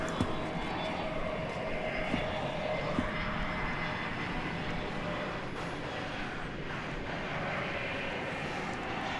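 American Airlines jet at Dallas-Fort Worth International Airport at night, engines rumbling and roaring steadily at a distance during its turn onto the runway for takeoff, fairly faint with no voices.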